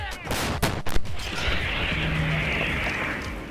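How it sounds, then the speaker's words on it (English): Ukrainian artillery crews on the front line in eastern Ukraine fire 152mm howitzers, two sharp heavy blasts close together followed by a long rumbling roll and hiss that lingers outdoors. "They are firing"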